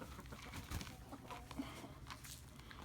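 Backyard chickens clucking softly at close range, a few quiet scattered clucks over faint background noise.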